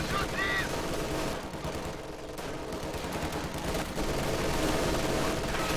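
MG42 machine guns and rifles firing in a multiplayer wartime strategy game: dense, continuous rattling bursts of automatic fire mixed with scattered rifle shots, loud and unbroken from start to finish.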